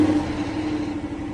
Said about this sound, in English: By the way, the exhaust is broken, so it sounds a little goofy.